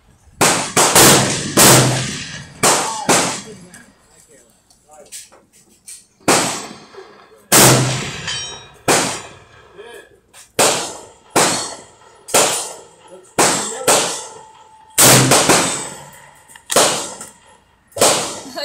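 Model 1917 rifle fired at a steel target 1000 yards away, a series of loud sharp cracks roughly every two to three seconds, each followed by a decaying echo, with no talking.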